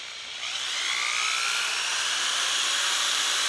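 A high, whining drill spins up a Gravity RC tire against a sanding pad or Scotch-Brite pad, holding a steady buzzing grind, loud and continuous, like rubber rubbing against an abrasive pad.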